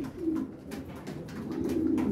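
Racing pigeons coo in a low, throaty murmur, several birds overlapping continuously at close range with no talking.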